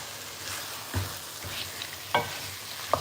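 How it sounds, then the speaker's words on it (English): Turmeric and spices stirred in a frying pan: a soft, steady sizzle with a few scattered scrapes and taps of the spoon against the pan, fairly quiet and close, with no talking. "So I'm just stirring this for 5 minutes now."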